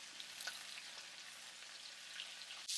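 Edges of a ribeye steak sear in butter in a pan, giving a soft, continuous sizzle with faint crackles and a brief louder burst of spatter at the end.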